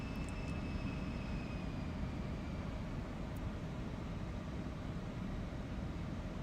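Embraer E175 jet engines spooling up in X-Plane 12, a steady broadband roar with rising whine tones that stays even and moderately quiet throughout, with no talk over it.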